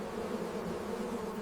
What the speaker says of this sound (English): This is where thousands of bees work together, a bustling city hidden within nature.